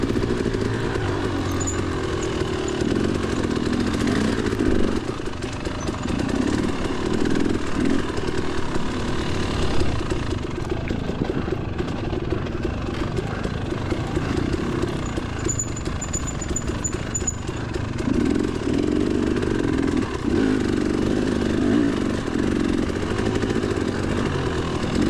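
A dirt bike engine drones continuously during a motocross race in the woods, a steady buzzing run with slight rises and falls, close and fairly loud throughout with no talk.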